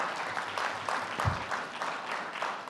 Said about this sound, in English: Yes, give him a round of applause.